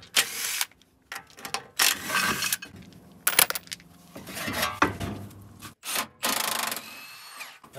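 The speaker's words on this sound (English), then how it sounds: "I'm gonna pull the wheel off and that should give me a little more access here" Lug nuts and a wheel are worked off a Porsche 914, giving intermittent bursts of scraping, rubbing and ratcheting tool noise with short quiet gaps between them.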